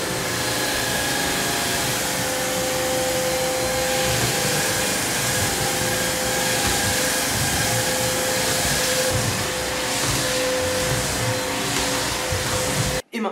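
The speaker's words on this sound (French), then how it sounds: "de récupérer le plus gros et ensuite de passer un coup d'aspirateur." An ILIFE W90 cordless stick vacuum runs continuously while sucking up a spilled egg, a loud, steady motor whine and airflow roar that cuts off abruptly at the end.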